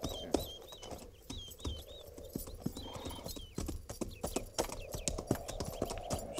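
Horses' hooves clip-clop in a radio drama scene, a busy, uneven patter of several animals walking on hard ground, heard fairly close and alone.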